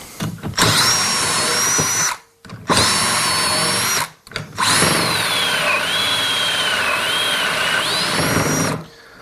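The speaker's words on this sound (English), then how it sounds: "and we're ready to drill the holes." A power drill bores holes through a clamped drilling jig during a workshop build of a router table, in three loud sustained bursts, with whining motor pitch shifting as the bit cuts and short pauses between.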